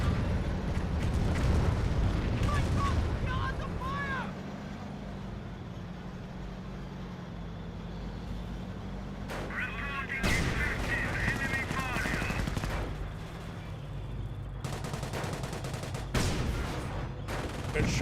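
Sector artillery barrage in Company of Heroes, rolling bursts of explosions and gunfire rising and falling over about eighteen seconds, with a voice talking over parts of the battle noise.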